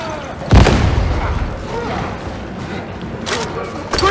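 Grenade blast in the video game Warhammer 40,000: Darktide: a loud, close boom at the start rolls off into a rumbling tail, with later sharp gunfire bursts and battle noise beneath.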